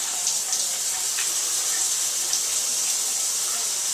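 Steady hiss and spatter of shower water running continuously at close range, with no talking.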